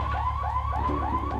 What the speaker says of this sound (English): Oh god, this one has a car alarm.